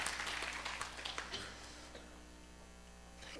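A church congregation at a Wednesday service claps in a short burst of applause that thins out and fades within a couple of seconds, leaving a steady electrical hum.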